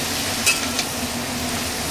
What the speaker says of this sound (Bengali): কুমড়ো আর পটলটাও দিয়ে দিয়েছি, দিয়ে এগুলো একটু ভেজে নেব যাতে কাঁচা গন্ধগুলো চলে যায়।